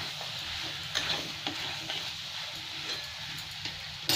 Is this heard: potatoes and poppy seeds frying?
yes